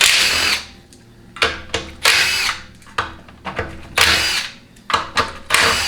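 A power tool with a 1/2 inch socket spins off the pan bolts of a TH400 automatic transmission during a teardown, a series of short whirring and rattling bursts close up, one bolt after another.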